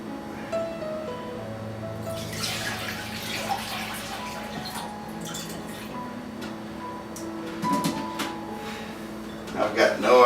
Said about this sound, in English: Maybe I can pour this water in here without spilling it this time.